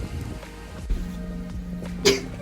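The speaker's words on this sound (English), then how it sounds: "I'm already sneezing" A single short, sharp sneeze near the end, close and abrupt, after a few quiet breathy sounds, outdoors in snow.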